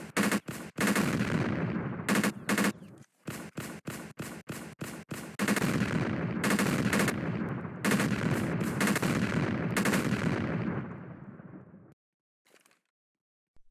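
Automatic turret in a Roblox game firing loud, rapid bursts of gunfire in repeated volleys, with short gaps between strings of shots before stopping near the end.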